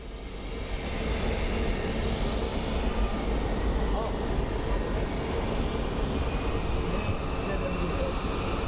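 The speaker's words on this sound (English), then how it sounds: "Okay, guys, 777 is moving." A Boeing 777 airliner moving at Phoenix Sky Harbor airport gives a loud, steady engine roar and rumble that holds throughout, with faint voices underneath.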